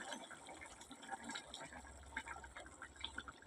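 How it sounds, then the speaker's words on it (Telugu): Telugu-style fish curry of tomba rettu fish simmering in a pot on low flame: a soft, continuous bubbling and burbling, close and fairly quiet, with no talking. "కూర అయితే బాగా ఉడుకుతుంది కదండి, చూసారా?"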